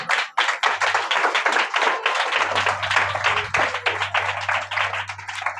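Church congregation clapping hands together in a steady, loud, dense rhythm of many overlapping claps close by, with a low sustained instrumental tone underneath.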